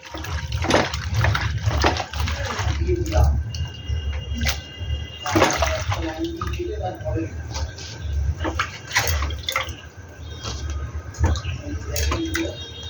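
Water poured into a pot of cut taro stems before boiling, a continuous splashing pour close by with a few drips, while a person talks faintly.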